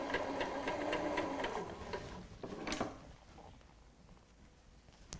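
Sewing machine stitching rows on a cushion, a fast steady whirring run that stops partway, followed by lighter mechanical clicks and quieter handling noise alone.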